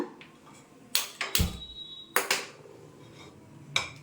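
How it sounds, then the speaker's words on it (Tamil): A kadai is placed on a stove while sambar powder is being made at home, producing several sharp metallic clanks and knocks at irregular intervals, close by, with a duller thud among them. "அதுக்கு ஒரு கடாய் அடுப்பில் வச்சுக்கலாங்க"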